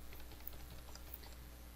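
Rapid computer keyboard typing of an ID number, a string of light close key clicks over a steady background hum.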